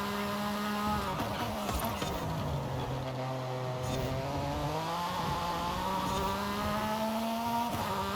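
Porsche 911 race car engine lapping in Forza Horizon 5, a loud, buzzing, continuous roar that rises and falls in pitch through shifts and throttle changes, close and steady throughout with no talk.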